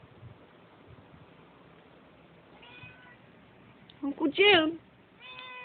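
A cat outside in a backyard lets out a couple of loud, wavering meows near the end, after quieter, fainter mews. A voice speaks quietly underneath.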